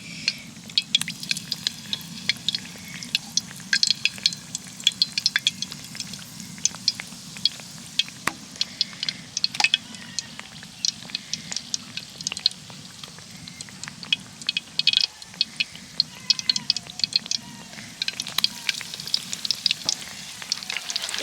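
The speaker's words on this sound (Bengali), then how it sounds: "নিয়ে এইভাবে তেলের মধ্যে ছেড়ে দেব ওই বেগুনিটা দেওয়ার সাথে সাথেই কিন্তু তেলের ওপরে ভেসে উঠেছে" Battered eggplant slices deep-fry in hot oil, giving a busy, close crackle of quick spitting pops over a low bubbling bed that holds steady throughout.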